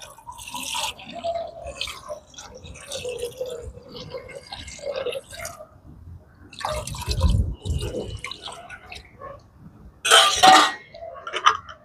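Water is poured into a pot of fish for homemade canned fish, heard as scattered drips, splashes and trickles with louder pouring bursts midway and near the end, close and intermittent.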